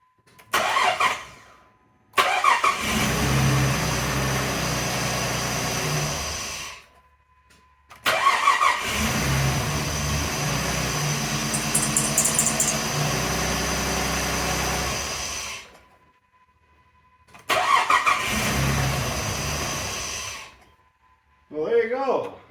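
A 2005 Jeep Grand Cherokee Laredo 3.7L with a new starter cranks and fires up three times, each start catching quickly into a loud steady idle that runs several seconds before shutting off, with a brief voice at the end.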